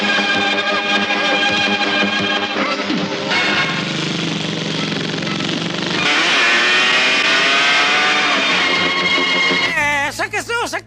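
A motorcycle engine revs loud and continuous during a film stunt scene, its pitch climbing and shifting, with music and dramatic effects layered underneath and a sharp wavering burst at the end.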